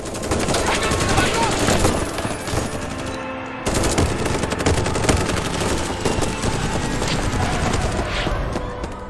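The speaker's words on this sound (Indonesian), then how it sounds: "Baku tembak pun tak dapat terhindarkan lagi." Dense automatic gunfire from a shootout scene in the El Chapo series fills the clip, loud and continuous with rapid bursts, a brief break near the middle, and a narrator's voice under it.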